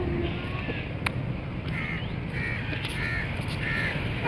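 Crows cawing on a roadside in Karachi, several harsh caws repeating over steady traffic and wind noise.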